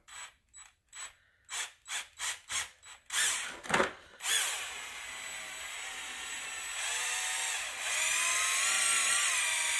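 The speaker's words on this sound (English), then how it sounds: "just take my drill gun and I'm going to put it right in the center of my medallion and I'm gonna drill this out" Power drill boring a center hole through a softened wood moulding medallion: a series of short whirring bursts and clicks, then a sustained close, grinding drill whine that continues steadily to the end, with no talking.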